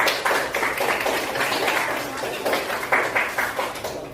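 A grade 8 class claps together in quick rhythmic bursts for a few seconds, the clapping loud and close in a classroom.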